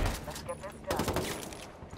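Gunfire crackles in a Ghost Wars shooter fight, a dense, dull stream of shots heard faint and muffled under a steady bed of game noise.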